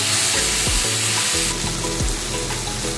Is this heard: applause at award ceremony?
no